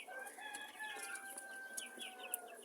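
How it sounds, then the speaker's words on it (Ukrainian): A young marble-coloured rooster gives a thin, strained crow with a few soft clucks around it, fairly close and faint against a quiet background. "Це мармуровий півник росте."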